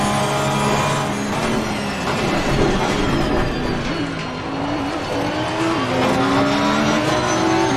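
Race car engines in Assetto Corsa Competizione at Zolder, with an Audi nearby. Loud, sustained engine tones rise and fall through gear changes as the cars brake toward a chicane, with overlapping whines from more than one car.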